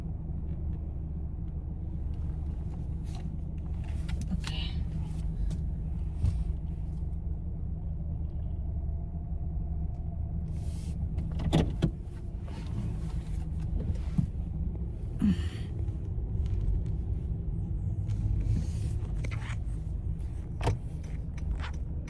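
Steady low engine rumble of a car under way, heard from inside the cabin, with occasional faint clicks and knocks over the continuous drone and no talking.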